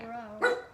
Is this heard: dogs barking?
yes